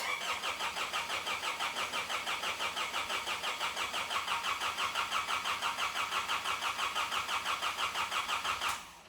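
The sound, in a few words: Nissan Patrol engine starting after reinstallation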